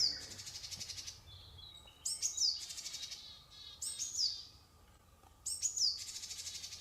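Japanese tits, or shijūkara, combine their pitsby and GGGG calls in repeated bursts: high chirps alternate with buzzy rasping notes over a faint, steady background hum.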